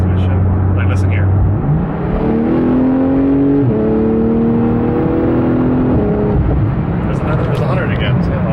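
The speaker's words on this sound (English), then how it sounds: "I don't know if you can hear that transmission shifting, but it is instant" Porsche 911 GT2 RS accelerating hard, its engine note climbing in steady harmonic sweeps broken by quick gear changes, with a voice talking over the loud, close drivetrain.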